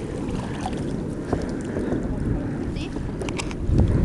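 A sea kayak paddled on open water near Mendenhall Glacier in Juneau, Alaska, with soft splashing paddle strokes and steady wind noise, and a brief spoken word.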